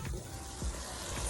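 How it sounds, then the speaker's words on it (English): Vegetables, including peppers and garlic, sizzling in a hot pot, a soft, steady crackle with a few faint clinks of utensils and no talking. "And it's all frying up together."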